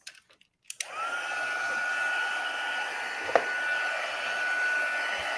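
A heat tool blows steadily while heat-setting foil on a handmade Christmas card, a loud continuous whooshing hiss with a faint whine that runs for several seconds after a few brief clicks at the start.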